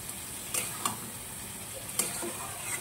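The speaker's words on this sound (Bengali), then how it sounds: "দইটা দিয়েও একটু কষিয়ে নিলাম" A spoon stirs spice mix and whisked yogurt as it fries in a pan, giving a faint, low sizzle with a few soft scrapes and taps spaced irregularly.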